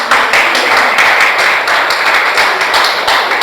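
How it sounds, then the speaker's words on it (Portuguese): A church congregation claps together during a sermon, a fairly loud, close run of rhythmic, slightly uneven hand claps lasting several seconds. "Dá uma salva de palmas para Jesus."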